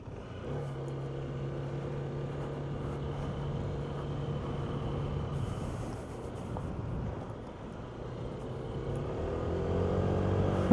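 Honda ADV 160 automatic scooter ridden off-road, a steady droning engine hum with throttle swells that builds louder toward the end, no talking.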